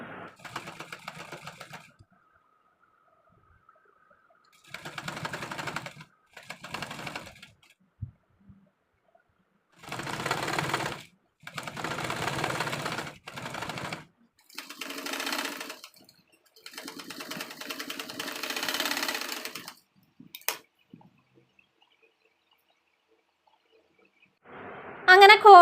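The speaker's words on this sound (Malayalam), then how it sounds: "അപ്പോൾ നമുക്കിനി ഇത് തയ്ച്ചെടുക്കാം." A sewing machine stitches a half collar onto a V-neck coord set in several separate bursts of steady whirring, each lasting a few seconds with short pauses between, close and clear with no talking.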